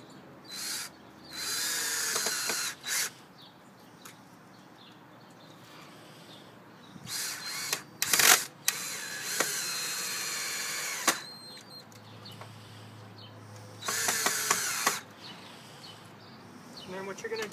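A power drill drills holes in wood in several short, loud bursts at irregular intervals, with quieter pauses between and occasional faint sounds in the background.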